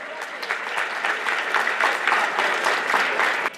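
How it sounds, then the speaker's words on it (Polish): A crowd at a football club's team presentation applauds a newly introduced player with loud, continuous clapping that swells and pulses for several seconds. "wielkie brawa"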